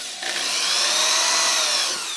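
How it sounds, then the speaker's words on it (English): A power drill whirs into a guitar neck, boring a hole to a depth marked with tape, a single steady high-pitched run of about two seconds at close range with no talking. "So what I'll do is I will drill to that depth"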